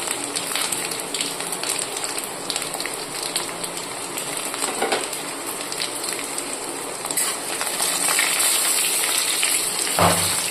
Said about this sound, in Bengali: তেল গরম হয়ে গেছে, দিয়ে দিচ্ছি শুকনো লঙ্কা, রসুন, কালো জিরে, কাঁচা লঙ্কা